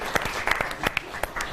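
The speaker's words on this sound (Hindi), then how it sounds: "अब एक बार जोरदार तालियों के साथ ज्वाला और लावा लिए हुए अब आपके बीच आ रहे हैं श्रीमान अतुल ज्वाला जी" Audience clapping to welcome a poet on stage at a televised Holi comic poetry gathering, a lively burst of many hands with uneven sharp claps standing out, fairly close.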